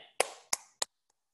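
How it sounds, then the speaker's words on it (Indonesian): Three sharp, close hand claps ring out in a classroom lesson, evenly spaced, with a quick decay after each and silence following. "Tepuk tangan untuk kita semuanya"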